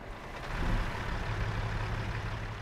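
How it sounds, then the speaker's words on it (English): A vintage Scot A2HD truck with a 450 brake horsepower engine starting up in American Truck Simulator, settling into a steady low diesel rumble that holds evenly throughout, without any voices. "So let's start it up and you'll hear what it sounds like."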